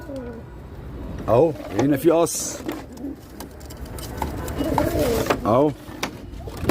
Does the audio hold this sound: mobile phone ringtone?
no